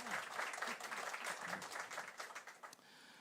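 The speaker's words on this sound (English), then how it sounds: "So can we give our panelists a round of applause before we get started?" A live audience applauds panelists at a panel discussion on resilience, a brief burst of clapping that thins out toward the end, fairly faint, with some murmuring underneath.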